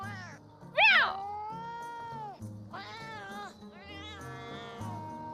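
A talking cat in a video game lets out a run of meows, the first a loud rising yowl followed by several more tonal mews over a steady musical backdrop, with no speech over it.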